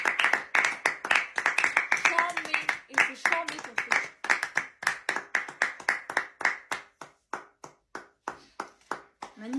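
A small group claps in rhythm at a French classroom session, steady separate handclaps near the listener that slow and thin toward the end, with people speaking over the first few seconds.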